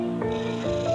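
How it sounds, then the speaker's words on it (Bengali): A domestic cat makes close, tonal calls that rise and fall in a few short swells over steady low rumbling. "অসহায় প্রাণী, একটা বিড়াল।"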